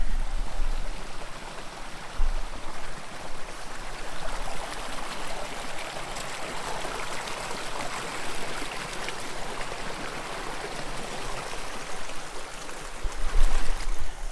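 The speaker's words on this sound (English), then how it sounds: "Imagine somewhere at the top of this little stream is where the waterfall is going to be." A small mountain stream on a forest hiking trail near Mount Hood flows steadily past a little man-made footbridge, with a constant close rushing babble and no voices.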